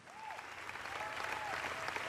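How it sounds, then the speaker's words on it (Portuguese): A church congregation claps steadily, a dense wash of hand claps at moderate distance, sustained throughout without a break. "Todos deem uma salva de palmas"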